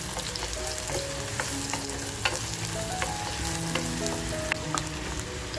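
Mutton and onions frying in a pan with clove, cinnamon, black pepper and bay leaf, giving a continuous close sizzle and crackle with stirring scrapes throughout.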